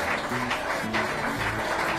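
A small group of onlookers claps in a barber shop, a few seconds of scattered, moderately loud hand claps in an uneven rhythm with faint background voices.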